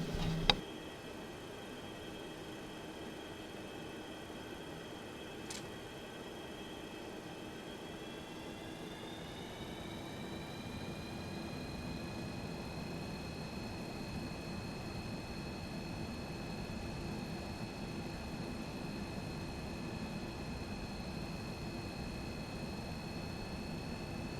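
An aircraft in X-Plane 11 takes off from runway 16. A steady engine drone builds gradually and rises in pitch partway through, faint and continuous with no voices, after a sharp click at the start.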